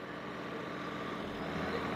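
Sonalika DI 745 III tractor engine running at about 1600 rpm while ploughing with a tota plough, a steady close diesel drone with a low rumbling throb that holds constant and swells slightly toward the end.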